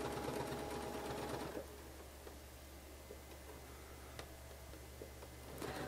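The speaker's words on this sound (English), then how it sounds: "I started quilting the circles on the edge of the quilt by the ditch" Sewing machine quilting circular stitching along the edge of a quilt using a circle template and ruler foot, a steady fast hum that runs loud at the start, then continues more quietly with faint clicks.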